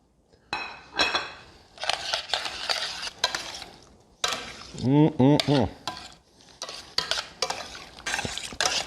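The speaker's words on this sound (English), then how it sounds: "now we're going to add our shrimp and any juice that's accumulated in the pan back into our sauce" Shrimp being stirred back into a scampi sauce in a pan, with clinks and scrapes of a utensil against the pan over a soft sizzle, in irregular close bursts.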